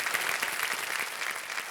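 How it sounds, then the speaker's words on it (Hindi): A studio audience on a television quiz show applauds a young contestant's win in a brief, even wash of crowd clapping. "तालियां बजती रहे इनके लिए।"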